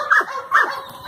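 A female bloodline dog of Vernon Jackson breeding barks twice in a kennel yard, in sharp, loud, close outbursts with a brief pause between them.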